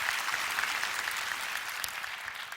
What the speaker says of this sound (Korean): 여기서 한번 박수 치고 갈까요?